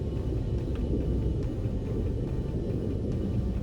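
Low, steady rumbling of distant thunder from a localized lightning storm in a space survival video game, a continuous deep roll with no talk.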